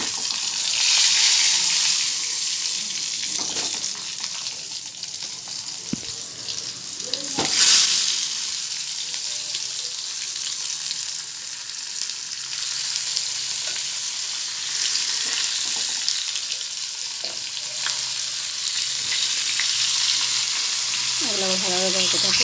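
Stuffed pointed gourd (potol dorma) filled with prawns frying in hot oil in a pan, a steady close sizzle running throughout, with brief clatters of stirring and a burst of louder crackle near the end.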